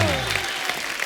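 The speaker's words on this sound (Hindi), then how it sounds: "ओए ठोको ताली ठोको" Studio audience applause on a comedy talk show, a dense continuous clatter of clapping from a crowd that starts loud and holds steady, with a voice briefly over it at the start.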